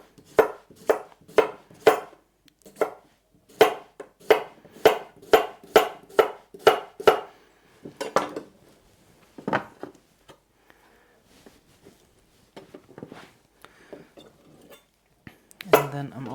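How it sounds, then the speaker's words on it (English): Knife chopping through cucumber on a cutting board for a salad, a fast run of sharp, close taps that pauses and starts again, then fades into scattered softer knocks and one last loud clatter near the end. "Then we have cucumber. So I'm just going to do some slices for my salad."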